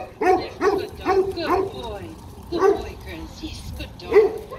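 A big sheepdog barks in repeated loud woofs, several in a quick cluster then a few spaced ones, close by on a New Zealand sheep farm while sheep are moved toward a barn.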